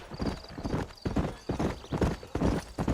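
Horse hooves clip-clopping at a steady riding pace in the Red Dead Redemption video game, a continuous rhythmic thudding, fairly close and prominent throughout.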